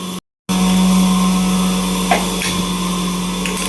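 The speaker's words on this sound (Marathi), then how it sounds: "गव्हाचं दळण दळायला चालू आहे माझा काय आवाज येणार नाही तुम्हाला गिरणीमुळे" A flour mill grinding wheat makes a continuous loud mechanical hum and whine, briefly cut off at the start, then running steadily.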